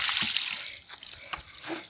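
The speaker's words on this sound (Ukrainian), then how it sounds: "Вода пішла, не застаюється." Water poured from a bucket into a drain and running away without pooling, a close splashing gush with a few gurgles and drips, moderately quiet and without talk.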